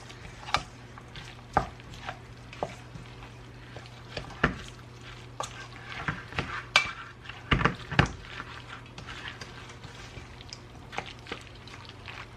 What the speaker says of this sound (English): Stir this all together.